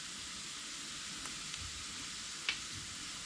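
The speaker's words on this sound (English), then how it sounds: "Give them a nice stir." Sliced onions fry golden brown in a pan with rock salt and chili flakes. A steady, soft sizzle fills the clip, with a brief scrape of stirring partway through.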